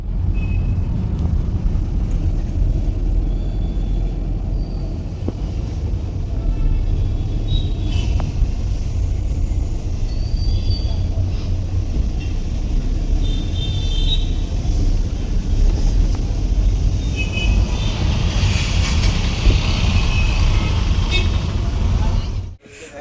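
A car driving on the old Mumbai–Goa highway gives a constant low road rumble and engine drone from inside the cabin, loud and unbroken for over twenty seconds before cutting off at the end.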